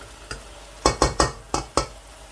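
Minced meat sizzles softly in oil while a spoon scrapes and stirs the pan in several quick strokes, close and fairly quiet.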